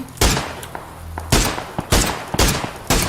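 Gunfire in the battle-royale game PUBG: loud bursts of rapid shots in several quick volleys, each a cluster of sharp cracks, with short pauses between them and no talk over the shooting.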